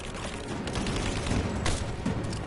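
Sustained bursts of automatic gunfire and rattling shots in the action game Rise of the Tomb Raider, dense overlapping volleys at a steady loud level, with no voices over them.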